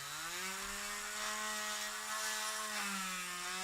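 A small power drill boring into the thigh of a Fury Toys action figure during a spring thigh mod, a steady whining motor tone with slight pitch dips as the bit bites, loud and close without talk.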